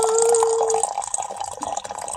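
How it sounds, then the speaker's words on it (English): Coffee pours from a small spouted kettle in a close, steady liquid trickle, with a thin ringing tone early on and a splashing stream afterwards. "there's like a tiny little spout up at the top, and we pour it in"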